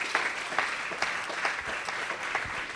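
Audience applause for a guest named Drew, a steady wash of many hands clapping throughout at moderate level, no voices over it.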